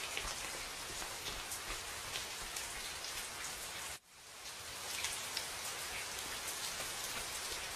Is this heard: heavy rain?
yes